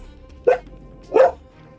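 Two sharp dog barks about half a second apart, moderately close, over a low steady background hum.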